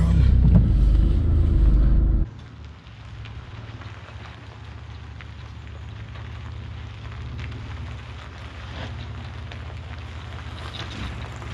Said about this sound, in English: I'm gonna go ahead and back this thing into the driveway for him.